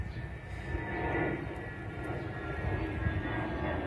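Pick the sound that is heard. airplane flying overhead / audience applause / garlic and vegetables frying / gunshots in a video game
airplane flying overhead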